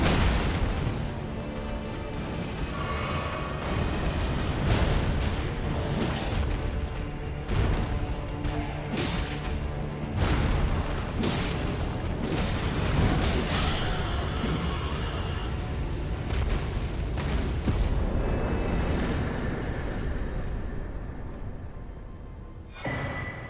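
Fire spells blast repeatedly in the Elden Ring video game, loud booming explosions and whooshing bursts piling up continuously over a dense game soundtrack.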